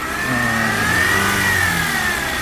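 A used Toyota Camry at a Korean used-car export lot has its engine revved steadily and loudly by buyers inspecting it, a smooth mid-pitched drone that rises slightly and holds, with no talk over it.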